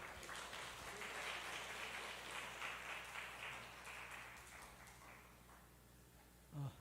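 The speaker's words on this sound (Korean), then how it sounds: "나오실 때 큰 환영의 박수, 축복의 박수로 우리 맞이하겠습니다." A church congregation gives a warm welcoming round of applause for a visiting missionary, with soft, distant clapping that holds steady and fades slightly toward the end.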